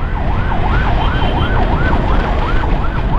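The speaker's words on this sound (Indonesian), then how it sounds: "Ambulan ini dari Pariaman sepertinya." An ambulance siren from Pariaman, heard on a road in West Sumatra, wails in a steady rising-and-falling cycle, loud and close, with road rumble underneath and no talking.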